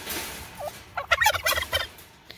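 Turkeys, including toms, gobble in a quick burst of repeated warbling calls on a goat farm. The calls are moderately close over faint background noise, with no talking.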